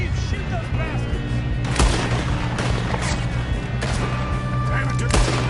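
Gunshots ring out during a train robbery in Red Dead Redemption 2: a series of sharp, loud cracks scattered over a dense backdrop of rumbling train noise and game sound.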